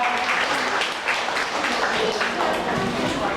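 Steady applause from a crowd at a Thai memorial ceremony honouring King Rama IX fills the whole stretch, dense and continuous with voices mixed in beneath it.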